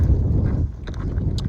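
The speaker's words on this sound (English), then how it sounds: "It's pretty windy today." Wind gusts buffet the microphone in the desert along a highway on a backpacking route, a loud low rumble with soft scuffing sounds near the end.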